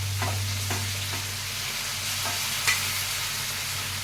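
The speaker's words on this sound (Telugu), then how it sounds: "కరివేపాకు ఇప్పుడు వేగిపోతుంది" Curry leaves and onions fry in a pan with a steady sizzle and a low hum, with occasional stirring scrapes and one sharp clink near the end.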